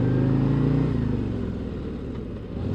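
Heavy low rumble of a 2024 Harley-Davidson Road Glide motorcycle engine, close and loud, with the pitch shifting as it changes speed and then settling into a steady drone, no voices.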